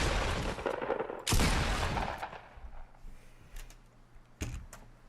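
Shotgun blasts in the video game Fortnite: a few loud, sharp booming shots with decaying tails, spaced apart, followed by quieter clicks and mechanical handling sounds, no talking.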